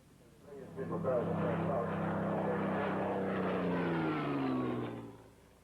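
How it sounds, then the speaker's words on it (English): A British Spitfire fighter plane passes overhead, its propeller engine rising to a steady drone and fading away over several seconds, with a voice speaking underneath. "natuurlijk kwam ook het misschien wel bekendste jachtvliegtuig uit de oorlog in actie, de Britse Spitfire"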